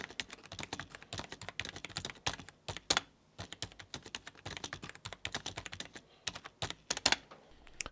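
Full sentence typed on a Marvo Scorpion K607 compact 80% TKL gaming keyboard, a rapid irregular run of crisp close key clacks with brief pauses between words, no talking.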